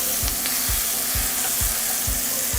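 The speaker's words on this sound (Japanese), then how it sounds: "まだお肉が少し赤い状態の時にくし切りにした、トマトも入れます" Beef and tomato wedges stir-frying in a hot pan with a steady bright sizzle, broken by a run of soft thumping scrapes and tosses at an even rhythm of about one every half second, close and fairly loud, with no voices.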